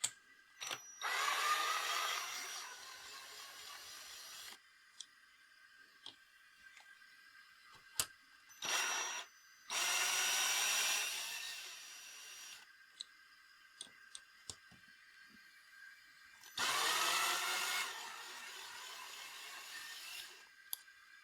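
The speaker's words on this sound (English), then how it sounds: "Now I can use my driver again and release the spring tension." A power driver backs off the tension on a 3D-printed valve spring compressor on a BMW N42/N46 engine, sounding in three sustained whirring bursts separated by quiet gaps with scattered small clicks.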